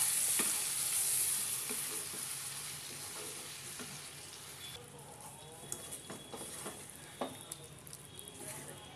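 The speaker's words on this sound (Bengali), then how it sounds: "ভালো করে মিশিয়ে নেব" A yogurt and chopped coriander mixture for jackfruit biryani is stirred in a pot, giving soft scraping and wet mixing sounds with faint sizzling, fairly quiet and close, with no talking.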